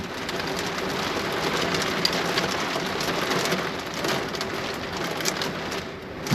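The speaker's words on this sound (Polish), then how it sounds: "I deszcz wali tutaj o dach" Heavy rain pounds steadily on a roof, a dense, continuous patter without pause.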